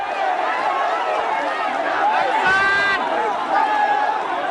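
A large adoring crowd greeting Aung San Suu Kyi after her release from house arrest, a dense continuous roar of cheering and voices, loud and steady throughout.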